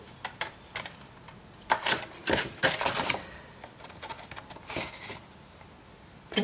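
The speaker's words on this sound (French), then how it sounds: "je vais tout simplement, avec un ciseau, aller couper jusqu'à mon pli aux endroits que j'ai marqués" Scissors snipping card paper up to a fold for a scrapbooking gift card, a series of crisp irregular cuts close by with short pauses between them and no talk.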